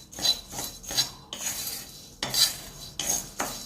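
Roasted lentils for an Andhra-style paruppu podi are scraped and poured from a pan onto a plate: a series of close, gritty rattling scrapes in separate bursts, with no one talking.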